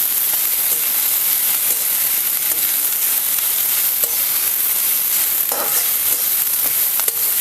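Chopped fenugreek leaves sauté in hot oil in a pan, giving a steady, close, dense sizzle with occasional faint scrapes of stirring and no voices.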